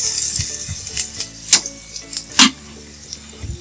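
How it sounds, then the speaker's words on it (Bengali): Salt, turmeric and chili powder being stirred in a pan, with scattered light clicks and scrapes of a utensil against the metal and a faint sizzle beneath. "এখন একটু নেড়ে মিশিয়ে নেব।"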